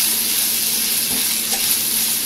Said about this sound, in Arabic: احط 3 معالق كبار زيت، وبعدين احط البصل كله واشوح البصل